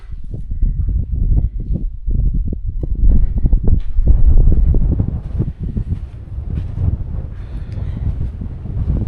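Gusty wind buffets the microphone in an Argentine canyon near Paso San Francisco, loud low rumbling blasts rising and falling in uneven surges, with no voices.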